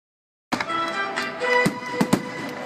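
Fireworks burst in the sky with a dense, continuous crackle and several sharp, loud booms near the end, heard close and without any talk.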